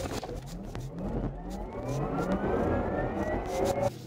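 Porsche Taycan Turbo Cross Turismo electric car accelerating hard, a rising electric whine climbing steadily in pitch over a low road rumble, heard from inside the cabin at moderate level without talk.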